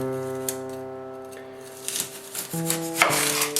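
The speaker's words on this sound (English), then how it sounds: "So we're just going to take an onion, top and tail it." A knife tops and tails an onion on a board in a kitchen with an electric hob, producing a few soft, scattered cutting clicks and scrapes over a steady humming tone that shifts pitch partway through.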